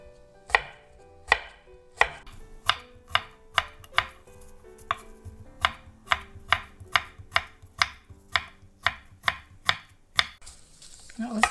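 A knife chopping food on a cutting board in a home kitchen while preparing acorn jelly salad, about twenty sharp, evenly spaced knocks, close and crisp, steadying into a quicker rhythm, with no talk.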